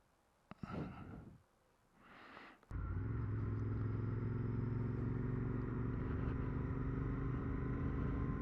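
Royal Enfield Interceptor 650 Mark II motorcycle with a chrome tank, heard with a couple of breathy sounds first, then a steady, loud engine drone and wind rush that starts abruptly and carries on without a break.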